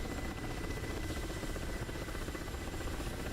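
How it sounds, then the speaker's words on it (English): Helicopter in the Holiday Junction video game during a Santa versus Grinch PvP match: a continuous, dense rotor drone with steady throbbing texture, loud and close throughout. "trying to guide him onto the Bad's helicopter"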